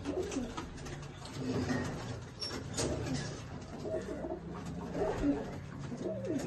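Pigeons coo over and over in low, throaty calls, steady and fairly close, against a constant background rumble.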